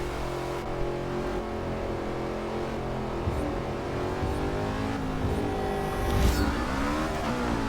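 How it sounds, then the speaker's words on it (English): NASCAR Sprint Cup race car engine in Forza Motorsport 6, a steady loud droning roar with shifting pitch as it accelerates and runs at speed, swelling briefly near the end, no talk. "It definitely sounds like a full-on Sprint Cup car."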